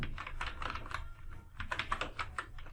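Keystrokes on a computer keyboard while typing a document in Microsoft Word come in quick, uneven bursts of close, crisp clicks, with a short pause midway and no voices.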